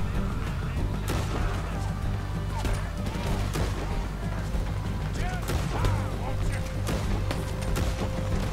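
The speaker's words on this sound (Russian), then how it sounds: "Пока будем из карабина стрелять, пожалуй." Repeated carbine gunshots fire in a Red Dead Redemption 2 shootout, sharp cracks arriving irregularly over constant game background noise and music, with someone talking throughout.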